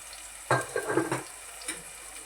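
Onion with cumin and turmeric sautéing in a pan for a spiced dish of black peas, a brief burst of sizzling and frying that starts suddenly and fades after about a second, close and moderately loud.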